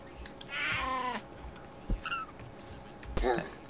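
A kitten in a Minecraft minigame gives a couple of short, high meows, one longer cry early and a brief squeak near the end, set among low in-game noises.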